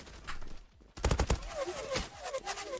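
Burst of rapid gunfire in the Zula online shooter game, a loud cluster of shots followed by scattered quieter shots and game effects.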